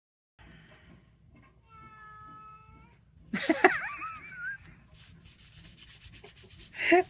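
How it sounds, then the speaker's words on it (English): A cat meows under a door in several drawn-out, wavering cries, louder toward the end, over a rhythmic scraping or rubbing noise. "She's really meowing under the door, aren't you?"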